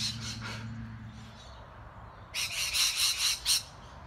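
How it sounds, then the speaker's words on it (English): Colourful birds squawk from a tree beside a running route. Two short harsh calls come first, then after a pause a louder run of five or six rasping squawks close by. No one speaks. "saw a couple of birds in the tree"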